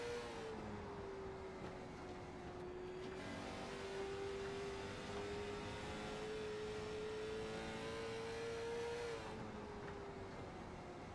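A race car engine held on gentle throttle at the Frostbite 100 race drones steadily at low, even revs for the whole stretch, faint and distant with little change in pitch.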